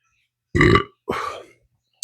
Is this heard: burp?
yes